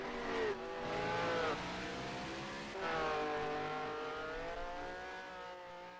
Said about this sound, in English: I think I heard another car there.